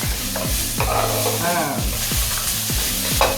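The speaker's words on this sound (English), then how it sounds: "Take your onions, put them in, and stir." Onions for a vegan bolognese sauce sizzle in a pan while a utensil stirs them in a steady rhythm of scraping strokes, loud and close.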